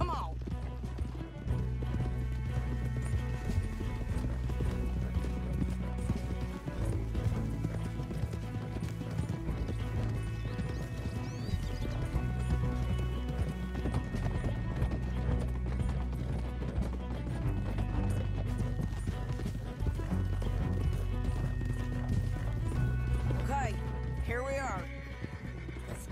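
Horses in Red Dead Redemption 2 gallop with steady clip-clop hoofbeats and whinnies over a continuous orchestral game score, with characters talking throughout.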